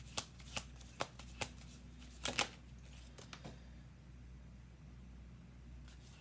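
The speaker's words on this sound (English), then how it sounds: "We're doing 2 more shuffles." A deck of tarot cards being shuffled in several quick riffling bursts, crisp and close, spread across the first few seconds before trailing off into quiet room tone with one last flick at the end.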